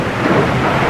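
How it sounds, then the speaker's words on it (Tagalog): Heavy rain pours down with thunder rumbling through it, a dense, loud, continuous roar of storm noise with no voices. "lumalakas na yung ulan"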